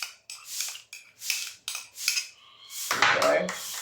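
A spoon mixes sugar into pineapple juice and other pineapple bread ingredients in a bowl, making a run of regular scraping strokes with short pauses, then a louder clattering stir near the end.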